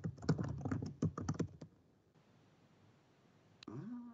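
Quick bursts of typing on a computer keyboard while logging on, close sharp clicks for about a second and a half, then near silence and a short final tone.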